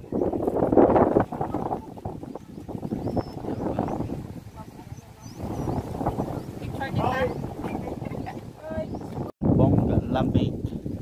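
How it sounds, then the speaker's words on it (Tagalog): Strong wind buffets the microphone at a scenic viewpoint, rumbling in heavy gusts throughout while people talk over it. "malakas yung hangin dito"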